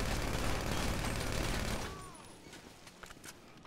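A burst of rapid gunfire in GTA 5 Online, loud and dense for about two seconds, then cutting off to quieter game sounds and faint background noise.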